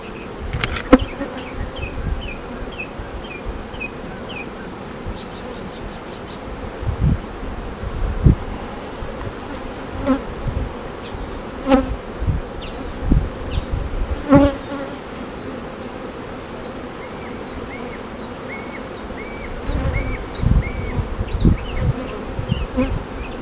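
Honey bees buzz around an open hive in a loud, close, continuous drone, with individual bees whining past and light rustling and handling noises scattered through, and no voices.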